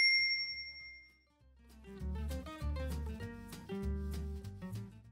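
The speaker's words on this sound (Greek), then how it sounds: "πατήστε το καμπανάκι" A bright notification-bell ding rings out clearly at the start and fades away, followed by a short, soft musical phrase.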